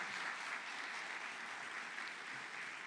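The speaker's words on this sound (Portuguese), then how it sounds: "Uma salva de palmas ao Senhor pela vida do pastor Paulo." Applause for a pastor fills a church in a dense, continuous wash of clapping, fairly soft and even in level, with no voices standing out.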